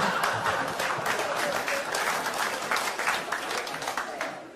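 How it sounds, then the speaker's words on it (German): A cabaret audience claps steadily through the whole stretch, a dense and even wash of applause from many hands with no pause. "erstaunlich viele Klatscher an der Stelle"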